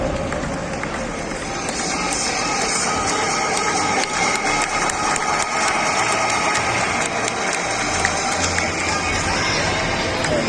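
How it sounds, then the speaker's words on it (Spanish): Crowd at an indoor motorcycle trial show in Valencia cheering and clapping for a rider, a dense continuous roar with engine drone and an announcer speaking over it. "Venga, chicos, palmas para Cristian Pascual"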